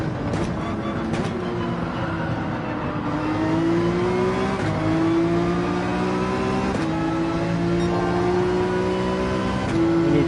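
A GT3 race car in Gran Turismo 7 at Barcelona holds full throttle, its engine droning loud and near with a rising pitch that climbs through several gear changes, each marked by a short dip before it climbs again.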